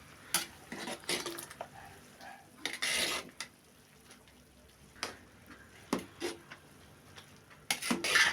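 Boondi mixture for laddu being stirred in a large pot, a spoon scraping and clanking against the metal in irregular bursts, some strokes louder and rasping, separated by quiet gaps, close and moderately loud.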